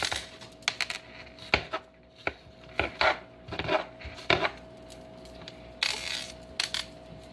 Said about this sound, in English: we're doing like rough chops, rough dices here, because they're all gonna go into the pot